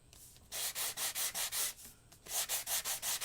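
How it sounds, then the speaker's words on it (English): Embossed foil being sanded lightly with a sanding block: close, rhythmic back-and-forth scratchy strokes in two quick runs, separated by a brief pause, with no voices. "And you're just going to sand this. And you don't need to press very hard. I'm just doing it really lightly."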